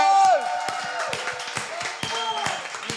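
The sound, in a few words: audience applause at open mic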